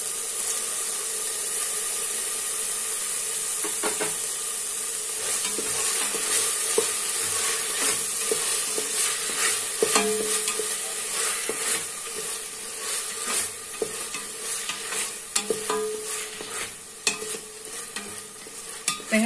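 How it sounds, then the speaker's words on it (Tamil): Chopped onions and tomatoes for Chettinad mutton curry sizzle steadily in hot oil in a pan, with a continuous frying hiss and occasional scraping and stirring clicks from a spoon, close and moderately loud. "வெங்காயம் தக்காளி ஓரளவுக்கு நல்லா வதங்கணும்."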